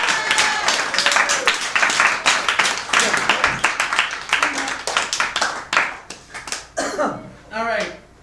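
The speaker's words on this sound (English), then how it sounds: "I want to give a big round of applause to all of the performers" An audience at a poetry night claps for the performers, a dense burst of applause that thins into scattered claps while someone speaks over it.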